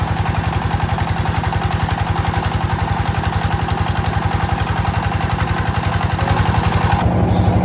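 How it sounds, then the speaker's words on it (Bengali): A loud motor boat engine running on a river, a steady rapid chugging throb that continues unbroken, with a brief shift in tone near the end. "এই সেই ইঞ্জিন যার শব্দ অনেক বেশি।"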